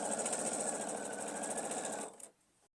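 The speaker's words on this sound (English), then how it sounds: "I am just going to continue this process to sew triangles to the 2 corners of my jewels to make 6 large triangles." Sewing machine stitching triangles onto the corners of quilt block pieces, a steady rapid mechanical whir running continuously before stopping abruptly near the end.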